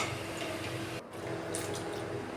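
Water poured into a simmering egg curry (udachu vitta mutta kulambu), a brief, steady rushing pour with a moment's break partway through.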